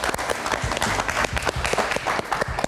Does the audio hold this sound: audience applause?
yes